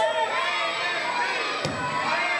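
A wrestling crowd at a West Coast Wrestling Company championship match roars and cheers steadily, a dense continuous wall of voices with one sharp thud or slam partway through.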